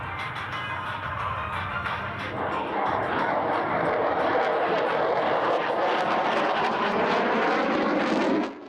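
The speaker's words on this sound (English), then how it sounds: "we move on to the Czech Air Force Saab JAS-39 Gripen display" A Czech Air Force Saab JAS-39 Gripen flies its airshow display at Pardubice in bad weather, a loud, broad jet roar that swells after the first few seconds and holds steady before cutting off.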